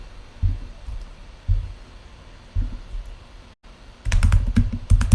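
Typing on a computer keyboard close by, in short bursts of dull key thumps separated by pauses, then a quicker, louder run of keystrokes toward the end; nobody speaks.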